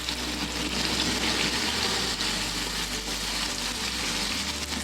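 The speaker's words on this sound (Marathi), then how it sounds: "आता आपण स्टिक टाकून घेऊया याच्यात आणि हे फ्राय करून घ्यायचं आहे" Prawn sticks fry steadily in hot oil, giving a continuous, moderately quiet sizzle with no pauses and nobody speaking.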